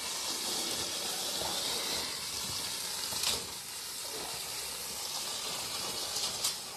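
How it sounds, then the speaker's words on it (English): Water pours and splashes in a steady, dense hiss onto a person being waterboarded in a staged torture-chamber setting, with a few sharper splashes and no talk. "He's waterboarding him."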